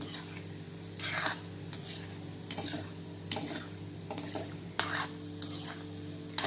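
Gulab jamun fry in ghee over a low flame as a quiet, steady sizzle, and a spoon scrapes and clinks against the pan in repeated strokes, with no talking.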